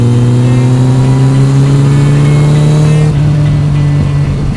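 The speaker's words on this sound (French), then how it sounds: "ça me met le son de la H2" A pre-recorded Kawasaki H2 motorcycle engine sound plays through a small add-on box fitted to a Yamaha MT-09: a loud, steady droning engine tone with strong harmonics that rises slightly, then shifts abruptly near the end.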